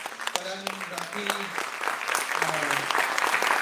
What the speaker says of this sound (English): So please give a huge round of applause in welcoming the first panel of the day.